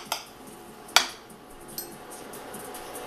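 A utensil knocks against a pan while food for a high-fat, low-carb breakfast is stirred, giving a few sharp metallic clinks spaced apart over a quiet background.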